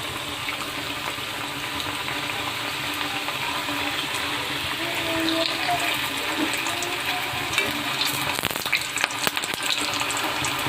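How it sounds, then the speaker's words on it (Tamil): Layered potato samosas deep frying in hot oil, a dense continuous bubbling sizzle held close throughout, with a few sharper clatters near the end. "ஆயில் நல்லா சூடானவுடனே நம்ம அந்த லேயர்ஸ் போட்டுடலாங்க சமோசாவை."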